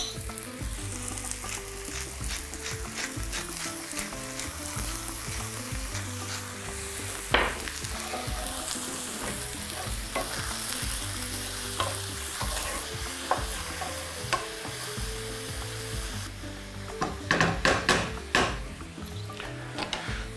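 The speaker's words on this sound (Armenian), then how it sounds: "Սունկը թող տապակվի" Mushrooms sizzle steadily in a hot pan, a continuous frying hiss broken by frequent scraping stirs and utensil knocks, with a louder cluster of clatter near the end; no one speaks.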